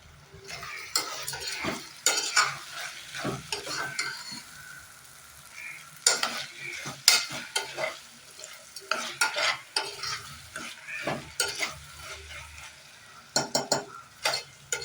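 Onion and tomato frying in a pan for mushroom biryani, soft sizzling under repeated scraping and stirring strokes of a utensil against the pan, close and fairly quiet in irregular bursts.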